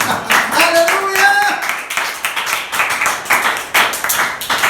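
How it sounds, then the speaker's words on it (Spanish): A church congregation claps and cheers after a sermon, loud, close, dense clapping mixed with raised voices and some tonal vocal sounds throughout. "Denle un aplauso."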